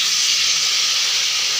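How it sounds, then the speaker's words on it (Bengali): Water hits a pan of browned meat curry with fried potatoes, raising a loud, steady, close sizzling hiss of steam that holds evenly throughout, with no talking. "এই যে মাংসতে আমি জল দিয়ে দিচ্ছি।"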